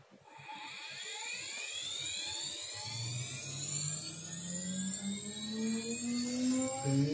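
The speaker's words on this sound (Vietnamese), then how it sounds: "Bắt đầu khoan các bạn ạ." A CNC machine drills into a wooden YouTube button, starting with a rough low rumble and rising to a loud, high whine that sweeps upward and sustains steadily, as if spindle speed climbs.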